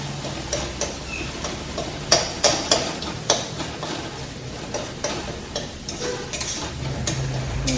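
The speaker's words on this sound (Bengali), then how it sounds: "মশলা কষানো হয়ে গেল" Masala sautéed in a pan for a cauliflower, potato and fish curry, a spoon clacking and scraping against the pan in an irregular rhythm over a low sizzle, close by with no voices.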